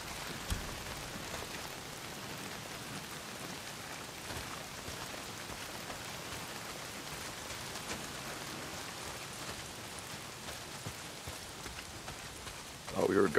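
Heavy rain pours down in the Days Gone video game world, a steady soft hiss of falling water that holds evenly throughout before a louder burst right at the end.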